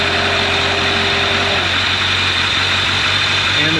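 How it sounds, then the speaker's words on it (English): A Kawasaki ZRX1200R motorcycle idles steadily up close, its engine drone continuous and loud with the radiator cooling fan whirring along underneath. "So the fan just kicked on."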